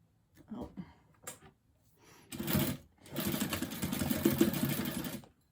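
A sewing machine stitches a fabric sunglasses case made from scraps. A few short bursts and handling noises come first, then a steady close mechanical whir runs for a couple of seconds.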